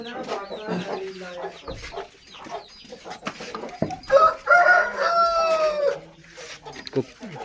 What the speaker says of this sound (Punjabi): ਆ ਕੁੱਕੜ ਆ ਬਾਈ ਕੋਲ